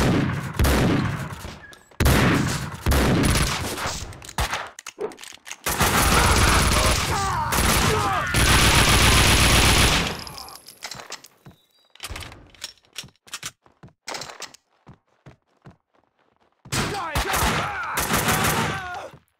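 Gunfire in the video game Max Payne 2, dense bursts of rapid shots and heavy impacts coming in loud waves with short gaps between them, mixed with game noise.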